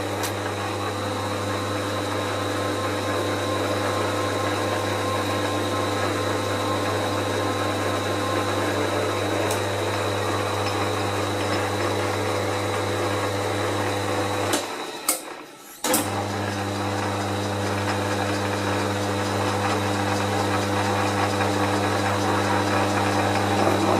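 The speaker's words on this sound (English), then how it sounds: "Stop the lathe there and we'll just try the nut." A metal lathe runs steadily with a constant tonal motor hum while taking a small finishing cut on a part for a hex milling attachment, with a brief dip and clatter near the end before the steady drone resumes.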